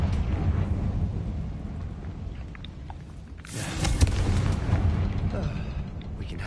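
A Confringo blasting spell explodes in Hogwarts Legacy with a single broad, rumbling burst that swells and then fades into low game ambience.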